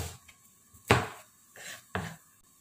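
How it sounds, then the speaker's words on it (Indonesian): A knife chops red bird's eye chilies on a board, three distinct sharp thuds spaced unevenly, with fainter lighter taps between, close and quiet in an otherwise still kitchen. "cabai rawit merahnya juga saya potong-potong"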